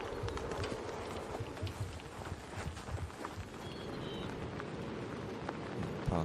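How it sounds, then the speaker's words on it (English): Heavy rain pelts down on a golf course during the first round of a women's professional tournament, making a dense, steady patter that fills the whole clip at an even loudness. "Third shot as the rain continues to pelt down."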